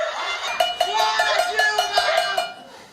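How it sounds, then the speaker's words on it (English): Pots bang in a street protest (panelazo) in Brazil: rapid, steady metallic clanks over a continuous crowd din, fairly loud and sustained, with no clear voices. "Her critics had organized a kind of pot-banging protest"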